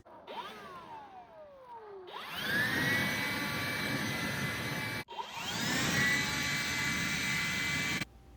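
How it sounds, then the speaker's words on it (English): DeWalt leaf blower clearing loose debris from a deck surface, spooling up to a loud, steady high-pitched whine and roar, cutting off briefly and restarting at full power nearby. "I'm going to use my friend's DeWalt blower to remove any loose debris from the deck surface."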